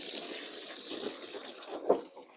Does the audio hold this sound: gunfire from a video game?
no